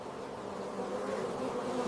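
Honeybees hum inside their hive, a dense, continuous buzz that stays close and even throughout with no other sounds.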